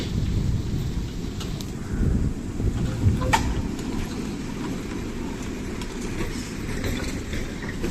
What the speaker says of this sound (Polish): I tak jedzie liniowa 105 właśnie.